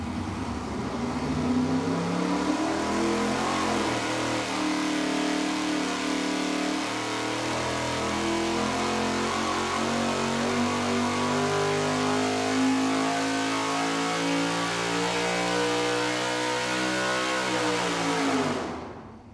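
An engine on a dyno after valvetrain lash tuning on the intake side sweeps up through a long, loud, sustained rev pull lasting about eighteen seconds, then cuts off sharply; no talk.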